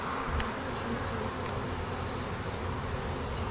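Honeybees from a strong spring hive buzz in a dense, continuous drone, close and steady, with no talking.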